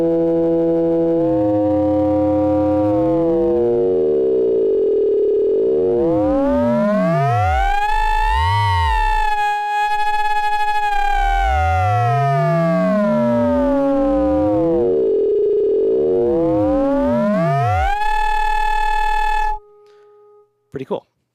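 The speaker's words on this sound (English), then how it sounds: "Let's actually quickly hear what another sine wave would sound like." A loud, continuous sine tone from an Abstract Data ADE-30 Wave Boss synth module sweeps up and down in pitch like a siren, with rich sidebands bending around it, and cuts off near the end.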